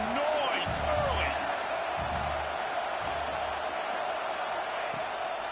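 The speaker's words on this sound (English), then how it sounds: "This crowd bringing the energy and noise early." Stadium crowd roar in an LSU versus Florida college football video game, a constant dense wash of cheering and noise filling the whole stretch, with faint chants and whistle-like tones on top.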